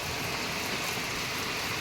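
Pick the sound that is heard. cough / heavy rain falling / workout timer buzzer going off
heavy rain falling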